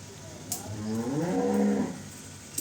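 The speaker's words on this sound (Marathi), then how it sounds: "गाय का म्हणून ओरडती आज" A cow lets out one drawn-out moo that rises and falls, moderately close against quiet outdoor background noise.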